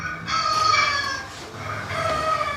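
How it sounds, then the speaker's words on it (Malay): A rooster crows twice in a row, moderately close, its drawn-out calls standing alone without talk. "Setiap pagi syak pukul 6, Morris akan buat kerja dia berkokok"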